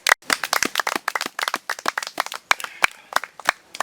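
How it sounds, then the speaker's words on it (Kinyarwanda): A church congregation breaks into a burst of clapping for the preacher as he rises, many hands slapping in dense, irregular bursts close by, with no talk over it. "tumwakira n'amashyi menshi cyane"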